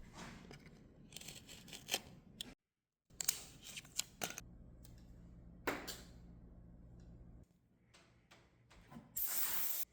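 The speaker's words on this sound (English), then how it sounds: "take a sharp knife and cut out the extra little square like this" A sharp knife slices through a corner of plastic laminate, giving close, quiet scraping and crackling cuts in irregular strokes, broken by short pauses and a brief hiss near the end.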